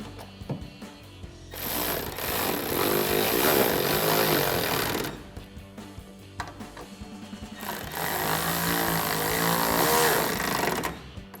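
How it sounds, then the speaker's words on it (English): A power tool with an 8mm socket whirs in two sustained bursts of several seconds each while tightening taillight bolts on a 2004-2008 Ford F-150, loud and close, with brief clicks between the bursts. "we'll tighten those down using our 8mm socket"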